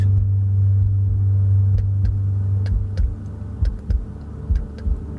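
A low, throbbing heartbeat pulse plays inside the cabin of a Mercedes-Benz G 580 electric SUV over a steady hum, its soft thumps repeating irregularly and growing more distinct toward the end.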